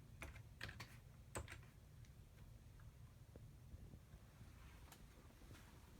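A computer keyboard being typed on while making buttons in GIMP: a few faint, scattered keystroke clicks over a steady low background hum, with no talking.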